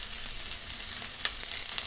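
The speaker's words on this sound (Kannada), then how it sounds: "ಇದು ಪಲ್ಯಕ್ಕೆ ಒಗ್ಗರಣೆ ಕೊಡ್ತಾ ಇದ್ದೀನಿ." Chopped onion and mustard seeds crackle in hot oil as a tempering for a cluster bean palya, a close, even, bright sizzle running throughout with a few faint pops and no voices.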